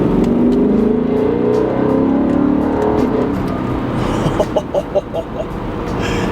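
A BMW E9X M3 engine fitted with an AFE carbon fiber intake, pulling loudly under load with a steady, sustained drone, then a few choppy pulses near the end as the revs shift.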